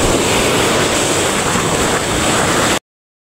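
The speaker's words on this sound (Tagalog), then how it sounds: "Medyo maalon lang ngayon mga master" Rough sea waves while out fishing by boat, a loud constant broadband wash of surf and wind noise close up, cutting to silence near the end.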